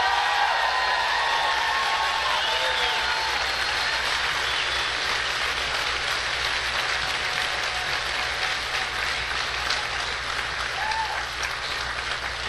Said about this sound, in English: I just want you to give them all just a little round of applause right now.